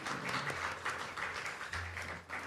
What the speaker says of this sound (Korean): 우리 하나님께 영광의 박수 함께 올려드리겠습니다.